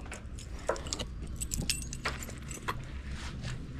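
Keys jangle in irregular metallic clinks and rattles for about four seconds against a steady low rumble that sounds like a car nearby; no one speaks.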